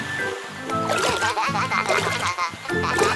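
Cartoon fountain water splashing and sloshing in quick, bubbly bursts, fairly loud, layered over rhythmic background music.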